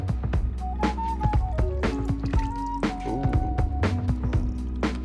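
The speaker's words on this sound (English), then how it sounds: "You want to pour that onto the chicken." A sake and garlic sauce poured onto chicken gives close, wet dripping and squishing with bubbly, gurgling liquid sounds, steady and fairly loud with no talking.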